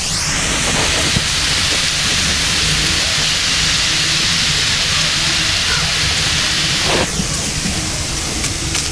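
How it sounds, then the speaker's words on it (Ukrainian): Pork fat sizzles with a loud, steady hiss that fills the whole clip, close and continuous, with a brief sharper crackle near the end. "Чуєте, шкварчить?"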